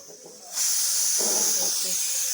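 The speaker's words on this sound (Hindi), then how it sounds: "कुकर हमारा सीटी देने लगा।" A sudden loud, steady hiss of escaping steam starts and continues, high and close, like a pressure cooker releasing pressure.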